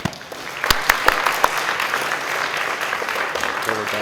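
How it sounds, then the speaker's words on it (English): Audience applause in a lecture hall for a speaker at a folk-art talk: a steady wash of clapping with a few sharper individual claps, moderately loud and continuous, with faint voices murmuring underneath. "So if everyone would give a big round of applause to Savannah Smith."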